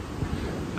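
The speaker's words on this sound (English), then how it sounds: "that wind is loud" Strong gale-force wind on the Appalachian Trail buffets the microphone as a loud, continuous roar with no pauses over a brief moment.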